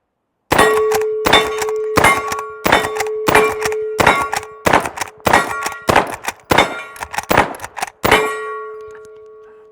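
Rapid lever-action fire from a Henry 1860 rifle chambered in 45 Colt, heard as about a dozen loud, sharp ringing shots in quick, steady succession, each trailed by a metallic ring, with the last shot decaying into quiet.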